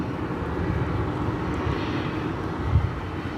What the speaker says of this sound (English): Here is the Alaska Airlines UNCF livery. It is painted on a 737-900ER.